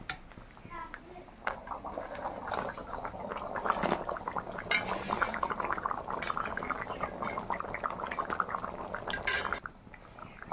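Tiyoh (cucumber) curry boiling in a pot, a soft continuous bubbling and sizzling with faint clinks of utensils, while someone talks over it.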